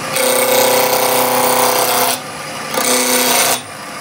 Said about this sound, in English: So I'm going to go with a small bowl gouge.